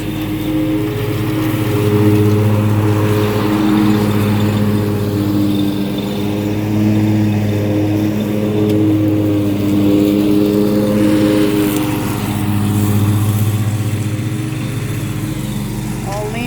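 A lawn mower engine runs steadily while cutting grass outdoors, its droning hum continuous and fairly loud, rising and dipping slightly as it moves, with a voice talking over it throughout.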